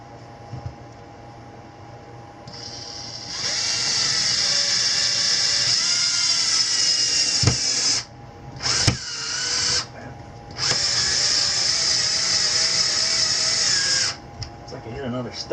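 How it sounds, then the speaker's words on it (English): A power drill drives screws through a shelf into a wall stud during an Ikea Mosslanda shelf install, whirring in two sustained runs with short stops between, and someone talks quietly at times. "And then just go ahead and put the rest of your screws in."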